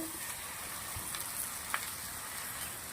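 Mashed boiled potato being stirred in a kadai over heat, with a soft, steady frying hiss and a faint scrape or two, fairly quiet and close.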